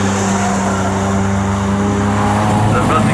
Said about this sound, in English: Richard Kemp in the yellow Fiesta. The running Class D